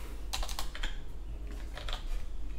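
Typing Python code on a computer keyboard, two quick clusters of close, crisp key clicks separated by a short pause, alone over a low steady hum.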